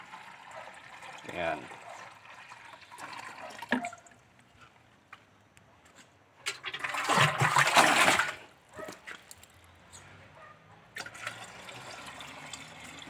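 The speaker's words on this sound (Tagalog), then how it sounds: "Lagyan natin ng tubig" Water poured into a container to mix herbicide, a close splashing pour in short bursts with one longer stretch, with brief speech and pauses between.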